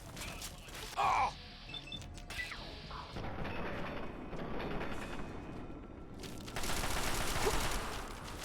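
Turret gunfire from Fallout 3 bursts out in loud, dense rattling volleys, with a sharp impact early on and a heavier sustained stretch near the end, mixed with game noise and a brief voice.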